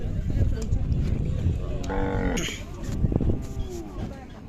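Khillar cattle at a village fair give a single loud, drawn-out moo midway, rising over a constant crowd murmur and nearby talk.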